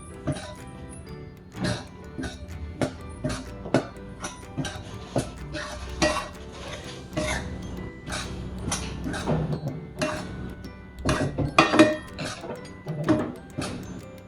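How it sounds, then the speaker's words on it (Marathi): Wheat flour dry-roasting in a pan over low gas, a spatula scraping and clinking against the metal in steady, repeated strokes, close and moderately loud. "कमी गॅसवर पीठ भाजायचं"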